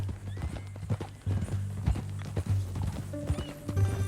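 Horse hooves clip-clopping in Red Dead Redemption 2, a steady walking rhythm of close, distinct hoof strikes over ground, with a brief whinny and low background music.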